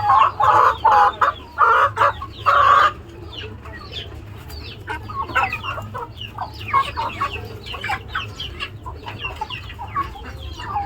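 Tiger and native chickens cluck loudly in several quick bursts up close while eating insects, then settle into softer scattered clucks and chatter.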